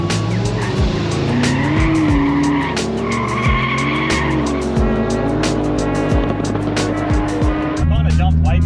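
Toyota Cressida drag car launching on nitrous at a no-prep drag race, loud engine roar with sustained tire squeal and skidding, revving in waves throughout, close and dominant.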